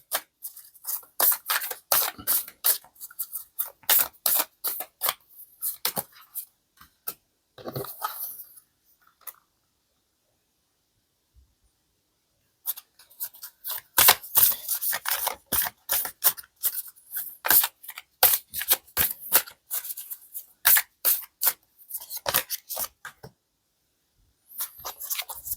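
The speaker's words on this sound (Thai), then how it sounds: "ก็อาจจะใช้เวลาเปิดไพ่สักนิดหนึ่งนะครับวันนี้จะใช้ไพ่ทั้งหมด5ใบ" Two decks of tarot cards being shuffled and five cards laid out on a table: rapid crisp riffling and flicking bursts, close and fairly loud, separated by a brief quiet pause.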